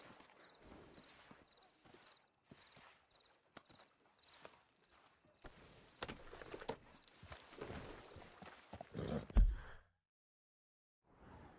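Horse hooves clop at a walk in the video game Red Dead Redemption 2, a soft steady rhythm under faint ambience that grows busier and louder near the end before cutting to silence.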